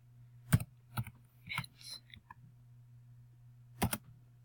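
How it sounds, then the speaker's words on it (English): Computer keyboard typing comes as a few close, sharp clusters of keystrokes with gaps between them, set over a steady low electrical hum. "let me just"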